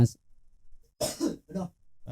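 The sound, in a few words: cough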